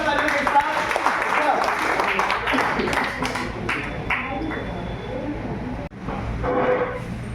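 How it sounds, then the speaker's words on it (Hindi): Applause and cheering from the crowd at an open mic event as a performer is welcomed to the stage, loud clapping that runs throughout with voices mixed in before fading briefly near the end. "प्लीज वेलकम अपनी जोरदार तालियों के साथ"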